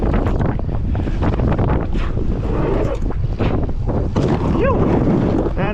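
Wind buffets the microphone outdoors at dirt jumps, a steady broadband roar with gusts throughout and no speech.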